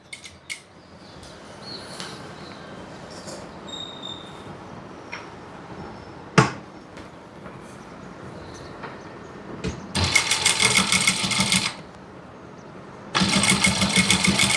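A sewing machine stitches the neckline of a chudithar in two quick, close, rapid-fire whirring bursts, set apart by a short pause and preceded by quiet handling clicks.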